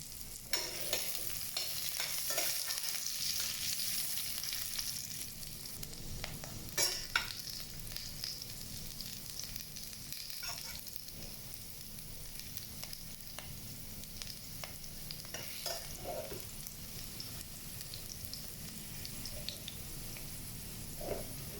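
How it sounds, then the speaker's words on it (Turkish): Steady sizzling and crackling of potatoes frying in a pan, likely alongside pan-fried salmon, with occasional scrapes of a utensil stirring them; no talking. "Onun için şunu kızartacağız."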